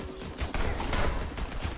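Gunfire in a video game aimed at enemy healers at the back: dense, continuous shooting across the whole stretch, with fairly loud, steady bursts that overlap into a sustained barrage.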